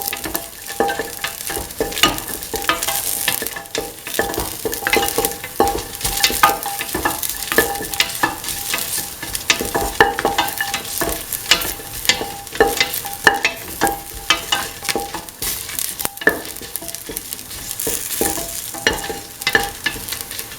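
Red chili crackling in hot oil in a pan while being stirred, a long run of dense sizzling broken by irregular scraping and clatter of the spoon, close by with no talking.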